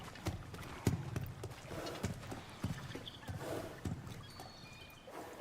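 Hooves of Kelpie, a horse in God of War Ragnarök, clip-clopping in a steady walking rhythm, close and moderately loud, with a few snorts and faint ambient sounds around them.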